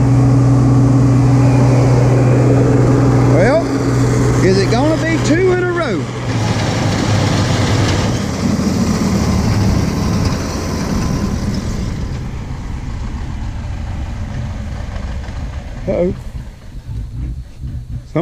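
Farm tractor engine running in a hay field during wrapping work, a steady low rumble with a changing load partway through, close and loud throughout, with a voice talking over it.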